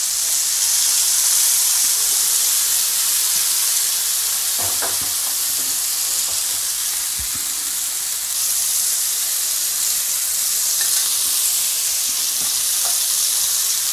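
Fish pieces frying in hot oil in a pan for a Tamil-style sheela fish fry, giving a steady, loud, close sizzle with a few brief clinks and scrapes and no talking.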